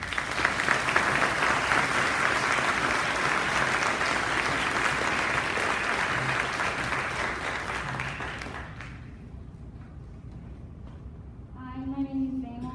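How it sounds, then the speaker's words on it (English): Sustained applause from a crowd congratulating a graduating class of 2022 at a school graduation, dense and steady for several seconds before fading out, followed by a voice beginning to speak. "Please join me in a round of applause to congratulate the class of 2022."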